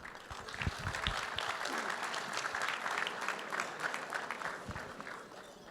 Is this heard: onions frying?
no